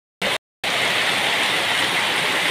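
Rain falls on a tin roof, a dense, loud, even hiss of drumming drops. It cuts in briefly, drops out, then resumes and continues without a break.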